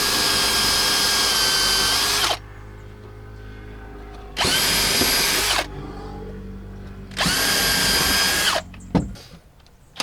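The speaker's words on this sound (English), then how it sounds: "I'm pre-drilling the wood because this is also very dry wood" A power drill pre-drilling holes in very dry wood, three loud whining bursts of about two seconds each separated by quieter pauses, followed by a short clatter at the end.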